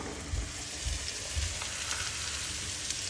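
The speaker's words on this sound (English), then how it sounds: "Look at that sizzle." Steady crackling sizzle of steak frying in hot oil in a pan, close and bright, with a few soft low bumps underneath.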